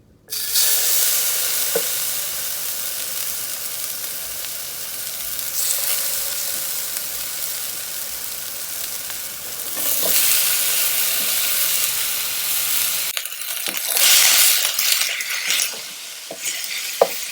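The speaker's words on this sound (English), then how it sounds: "In our hot wok, we want to go ahead and add our onion and our garlic." Onion and garlic sizzle hard in a hot wok on high heat, a steady close, bright crackle with brief clinks and stirring scrapes, swelling louder near the end with no talking.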